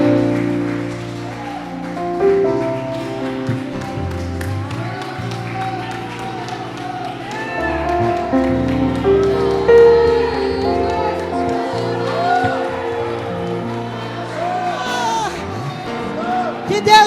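A church congregation clapping and applauding in praise during a worship service, steady crowd clapping running under ongoing music and singing throughout.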